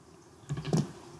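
A short flurry of computer keyboard keystrokes, a few quick close clicks over a quiet room hum, with no talk.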